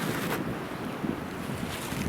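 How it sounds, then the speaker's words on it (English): Strong wind buffets the microphone outdoors in a continuous rushing roar with low thumping gusts and no speech. "It's quite windy here."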